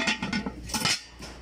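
Turkish granite cooking pots clink and knock together in a few quick, light clatters, close by and fairly quiet, with no talking.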